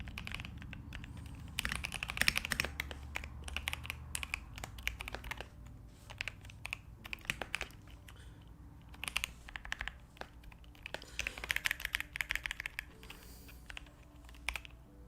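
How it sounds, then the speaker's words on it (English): Rapid bursts of clicking from a custom-built computer keyboard, with irregular clusters of keystrokes and short pauses, close and fairly quiet, with no talking. "My keyboard sound is very ASMR."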